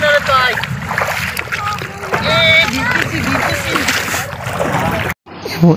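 Gas-powered motorboat travelling on a big river, with a steady engine drone and splashing water, close and loud, under overlapping voices.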